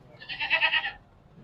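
Goats offered for sale for Qurbani in Maharashtra bleat in one short wavering cry with a few pulsing beats, clear and fairly close against quiet surroundings.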